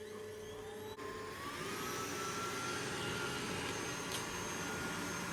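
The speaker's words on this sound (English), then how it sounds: "Hoovering and mopping at the same time" Dreame robot vacuum hoovering and mopping a hard floor at once, a steady whirring motor drone with a high whine, with a brief dip near the start before settling into a continuous hum.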